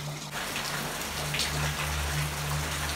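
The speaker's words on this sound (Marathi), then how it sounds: "वाऱ्याबरोबर खूप जोरदार पाऊस होता" Heavy rain driven by strong wind falls in a Konkan village, a dense, steady hiss of drops on surfaces lasting throughout, with a faint low hum underneath.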